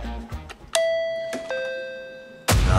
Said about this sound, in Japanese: よし、ピンポン押すぞ。